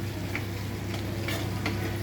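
A spoon stirs masi dried fish thokku with coriander leaves in a pan on a gas stove, giving a few soft scraping strokes over a steady close sizzle.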